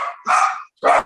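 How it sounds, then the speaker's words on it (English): Two small dogs bark sharply nearby in a few short bursts, loud yaps separated by a brief pause. "It was my two little dogs."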